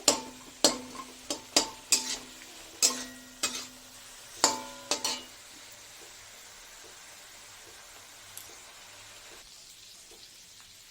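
A spoon stirs and scrapes a spiced masala with boiled potatoes and small whole onions in a pan with a little oil, for a Bengali egg malpua dalna. About ten sharp metallic clanks come in quick succession, then a faint, steady sizzle continues alone.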